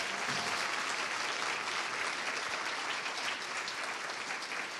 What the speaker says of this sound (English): a big Earthkeeper round of applause for Dr. Samir Osmanagic, please.